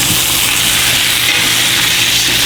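Seafood browns in hot frying oil for a gumbo, giving a loud, continuous sizzle with a bright hissy wash that holds steady for the whole short stretch without a break.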